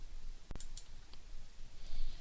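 A single sharp computer mouse click, close and quiet, followed by a couple of fainter ticks against a low background hiss.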